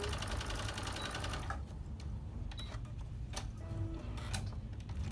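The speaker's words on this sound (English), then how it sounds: "we're going to start with a little back stitch and then go straight down" A sewing machine stitches a short back stitch and then runs a straight seam, giving a steady, close mechanical whir with a fast ticking rhythm that continues throughout, with no talking.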